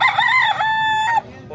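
Two roosters at a cockfighting hat market in Calumpit; a loud close crow rises and holds, then breaks off abruptly, with a brief fainter call at the end.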